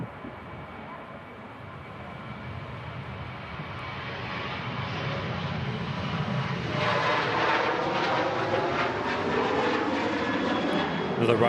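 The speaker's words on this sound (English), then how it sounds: "Another Ryanair departing, Ryanair UK Bravo." A Ryanair airliner departs Manchester Airport, its jet roar swelling gradually from a distant rumble into a broad, loud, sustained rush with no talk over it.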